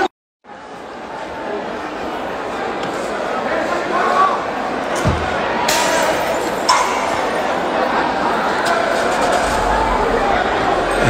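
Náutico football supporters massed at the Aflitos stadium during a clash with security, a dense continuous crowd roar with scattered clanks and thuds, steady and loud throughout after a brief silent start.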